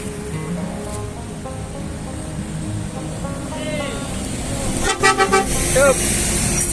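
NPM V81 New Shinchan coach bus passing on the road, with a driver at the wheel. Steady traffic rumble builds as it nears, then loud stacked horn blasts sound near the end over faint talk.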